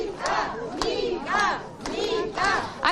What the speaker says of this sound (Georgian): აქ თქვენ გესმით ეს შეძახილები, მხარდაჭერა მთავარ არხს, მხარდაჭერა ნიკა გვარამიას